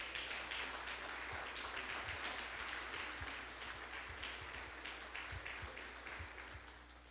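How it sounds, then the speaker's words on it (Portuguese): Church congregation applauding, a steady wash of clapping from many people that carries on without a break and slowly fades toward the end, heard at a moderate distance. "Vamos aplaudir o Senhor,"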